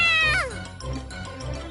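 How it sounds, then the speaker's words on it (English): A cat meows once in Star Ocean: The Last Hope, a rising then falling cry, close and fairly loud, followed by a low background hum from the game. "Meow! Meow."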